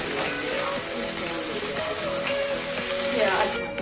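Broccoli heads and choy sautéing in a hot pan, a steady close sizzle and crackle running throughout with no voices.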